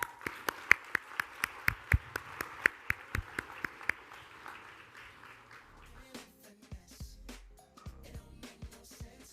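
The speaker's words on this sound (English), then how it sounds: "If everybody could give a great round of applause for Mr. Jose Baez." Applause for defense attorney Jose Baez as he is introduced: distinct, evenly spaced loud claps for about four seconds, then thinning into scattered, fainter clapping with some background noise.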